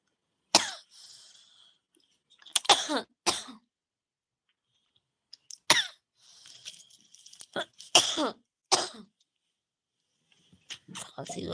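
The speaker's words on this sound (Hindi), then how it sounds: "खांसी और लग रही थी।" Coughing from a woman on a live stream, several separate sharp coughs and bursts spread over about ten seconds with quiet gaps, fairly close.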